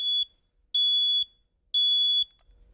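Smoke detector alarm giving three loud, shrill, evenly spaced beeps, each about half a second long, with short silent gaps between them.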